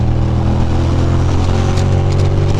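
Ducati motorcycle cruising on a winter ride, a loud steady engine drone with strong low rumble and wind noise, unbroken throughout the short stretch.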